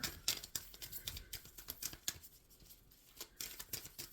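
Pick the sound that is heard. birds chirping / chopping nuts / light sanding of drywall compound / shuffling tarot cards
shuffling tarot cards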